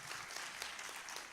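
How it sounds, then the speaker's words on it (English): Audience applause at a master session talk on poverty, a brief, even burst of clapping from a moderately distant crowd, fairly quiet and continuous. "Let's give Kathy another round of applause"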